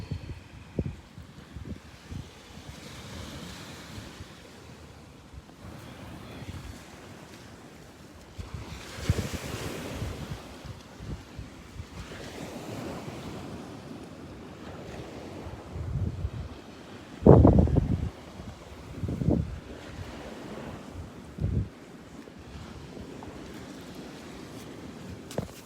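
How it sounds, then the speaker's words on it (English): Ocean surf at Turtle Beach rolls in and breaks on the shore, soft and steady with wind buffeting the microphone and a few louder crashes near the end. "Wonderful ocean."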